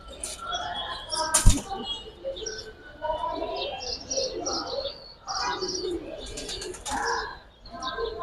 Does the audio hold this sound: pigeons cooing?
yes